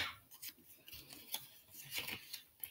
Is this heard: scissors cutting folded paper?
yes